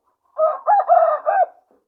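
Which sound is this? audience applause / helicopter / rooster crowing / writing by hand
rooster crowing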